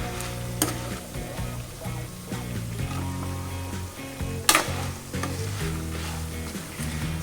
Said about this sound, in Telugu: ఇది ఆల్మోస్ట్ ఫ్రై అయిపోయిందండి